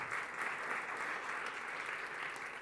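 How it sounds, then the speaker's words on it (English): A crowd at a Startup Estonia demo afternoon claps in a sustained, even wash of applause, with no pauses or talk. "give a big applause for these guys"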